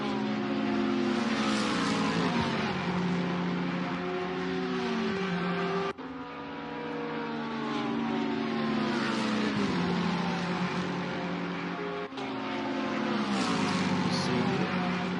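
Racing cars at Paul Ricard in Assetto Corsa Competizione, engines screaming at high revs with pitch rising and dropping through gear changes, two sharp shift breaks, loud and continuous.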